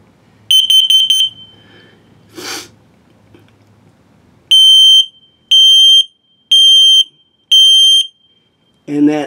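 An RV carbon monoxide and LP gas detector in a 2023 Flagstaff MAC 206LTD camper runs its self-test: a rapid burst of shrill beeps, a hiss, then four separate long piercing beeps at steady intervals, with a short click at the end.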